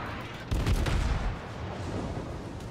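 A single heavy boom from cruiser guns firing in World of Warships, the Atlanta, a deep low thump that decays over about a second under steady background rumble.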